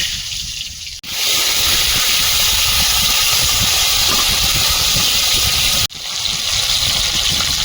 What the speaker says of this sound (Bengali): আলুটা তেলে ভেজে নেব